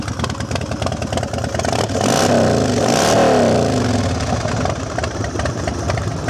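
A Harley-Davidson Electra Glide Classic FLHTC with a Mikuni carburetor and Vance Hines exhaust idles with a loud, lumpy rumble, then revs up twice in a swelling roar before dropping back to a throbbing idle, close by.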